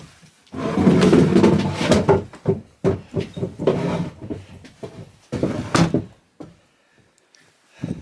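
Wooden door of a mountain hut on the Tofana di Dentro being moved and propped, a run of close scraping, knocking and creaking bursts before things go quiet.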